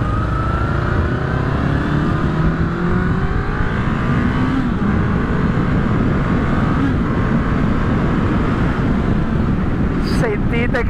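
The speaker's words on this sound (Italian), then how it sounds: "Sentite che motorino che ha, sentite che bel sound" A 1981 Honda CB 750 F motorcycle engine runs steadily and loudly up close, a continuous full-bodied drone with slight pitch swells throughout, and no talk over it.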